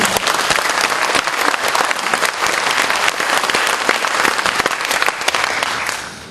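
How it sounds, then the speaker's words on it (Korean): A party rally audience breaks into loud, sustained applause, dense clapping close and steady for several seconds before tapering off at the end. "뜨거운 박수 한번 부탁드립니다"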